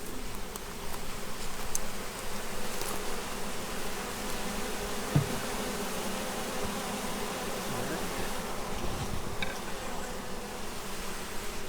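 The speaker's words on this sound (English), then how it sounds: "these are the Italian bees" A dense, continuous buzz of Italian honey bees from a package of bees, steady and close throughout, with one small knock partway through.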